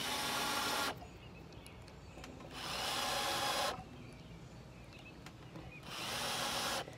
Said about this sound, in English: We're just going to get these screws started so I don't have to try to do it upside down